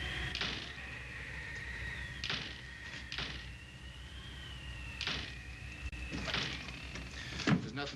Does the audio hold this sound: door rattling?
yes